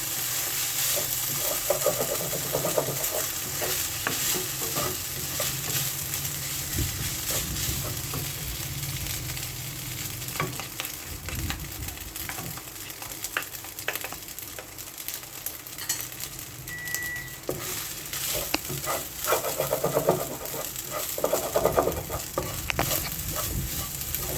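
Leftover sticky rice is stir-fried in butter oil over low heat, giving a continuous soft sizzle with scraping and stirring strokes of a utensil against the pan, close and steady, with no talking.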